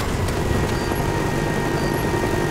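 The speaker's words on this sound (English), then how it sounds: "Friendly Huey inbound." A Huey helicopter flies in during a Call of Duty match on the Nuketown map, a loud continuous rotor and engine roar that sits close and constant and is heard alone without speech.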